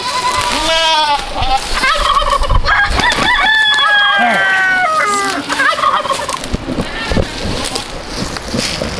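Turkeys gobble loudly and repeatedly in rapid warbling bursts, with clucks and other fowl calls mixed in and a voice talking intermittently over them.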